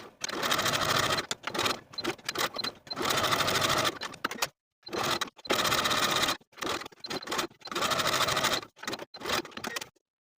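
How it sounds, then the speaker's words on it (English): Sewing machine topstitching around the perimeter of fabric sleeve button tabs, rapid close stitching in several short bursts separated by brief pauses, no talking. "Then we're going to top stitch around the entire perimeter of both tabs with about 1/8 of an inch seam allowance."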